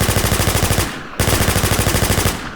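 Rapid, evenly spaced video game shotgun fire rattles loudly in two bursts separated by a brief pause, a repeating weapon firing close up.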